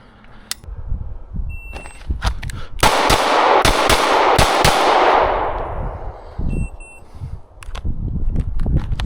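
Gunshots during shooting drills at an outdoor range on a spring day: a few sharp, loud reports in close succession with a broad ringing burst near the middle, then scattered quieter clicks and handling noises.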